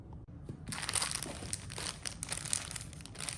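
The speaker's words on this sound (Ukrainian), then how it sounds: "чекають посилочки, то зараз робимо розпакування" Parcel packaging crinkles and tears during unpacking, a faint, continuous rustle of crumpled material with a few sharper crackles and no voices.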